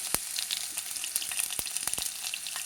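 A spoonful of cumin seeds frying in hot oil, giving a steady bright sizzle broken by sharp little pops and crackles, close up and with no talking.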